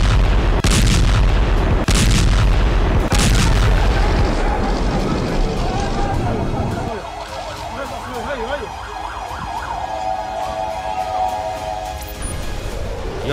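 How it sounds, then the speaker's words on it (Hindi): Heavy booming blasts from Israeli bombardment of Gaza during the Israel-Hamas war, loud and close in the first seconds, followed by a wailing siren over a steady background rumble with voices faintly mixed in. "24 घंटे के अंदर इजराइल ने गाजा पर अब तक की सबसे बड़ी और भीषण बमबारी की"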